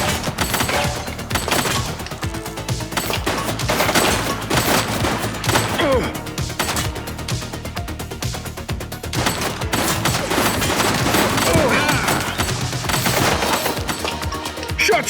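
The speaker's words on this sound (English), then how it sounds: "Shots fired!" Sustained gunfire in the police game The Precinct: rapid, dense volleys of shots crackling almost continuously over a loud action backdrop, with brief thinner gaps between bursts.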